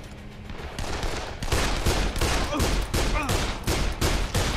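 Rapid gunfire in the video game Dead Island, loud dense bursts of overlapping shots repeating steadily through the whole stretch, swelling after a quieter opening.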